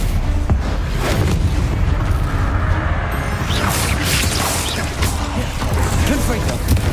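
Loud, continuous blasts and whooshing crashes from Confringo fire spells in a Harry Potter video game fill the scene, with one burst following another under a speaking voice.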